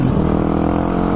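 A factory street-legal dirt bike engine drones steadily and loudly close by, a constant buzzing note with no pauses or talking.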